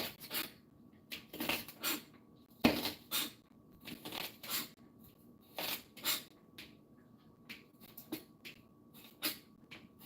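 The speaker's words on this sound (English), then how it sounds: "Let me cut up these onions." A knife chops onions on a board in irregular bursts of short crunchy cuts, close and fairly quiet, with pauses between strokes.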